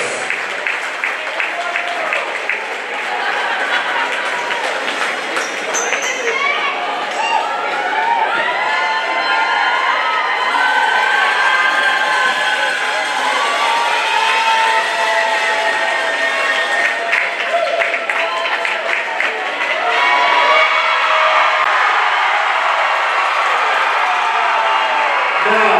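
A large crowd cheers, whoops and applauds continuously for a CIF San Diego Section 2020 Division IV championship team, with children shouting and voices rising throughout; the noise stays loud and dense from start to finish.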